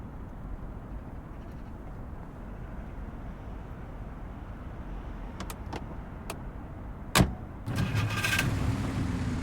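A car engine starting in the Slovak crime game Vivat Slovakia: after a low idle hum and a few clicks, a sharp crank catches and the engine settles into a louder steady run, close by.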